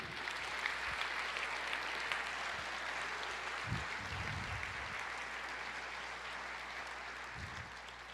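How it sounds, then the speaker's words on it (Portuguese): Congregation at a Christmas-themed church sermon applauds, a soft, continuous spread of clapping that sounds distant and even, with a few low thumps scattered through it. "Você pode aplaudir, querido?"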